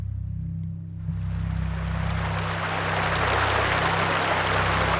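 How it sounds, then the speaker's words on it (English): Water rushing near a river in a field, used as a podcast sound effect: a steady, full wash of flowing water that swells in after a low hum and keeps going without breaks. "Magpie can hear water rushing nearby"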